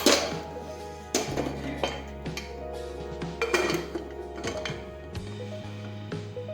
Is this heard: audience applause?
no